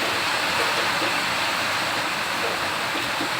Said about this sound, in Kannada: ಬಟ್ ಮಳೆ ನೋಡಿದ್ರೆ ಇಷ್ಟೊಂದು ಬರ್ತೈತೆ